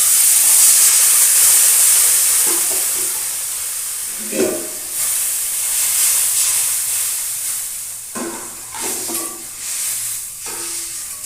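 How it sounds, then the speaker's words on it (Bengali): Water is poured into a hot pan of turmeric-spiced rohu fish curry, setting off a loud, sustained hiss of steam that gradually eases, with a few clinks and stirring sounds later and no speech. "এবার জল দিয়ে দেবো"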